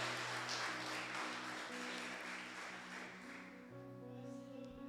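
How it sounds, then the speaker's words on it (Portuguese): A church congregation applauding, a dense, steady wash of clapping heard from a distance, with sustained organ or keyboard tones beneath it, fading slightly toward the end. "Em nome de Jesus, aplaude Ele."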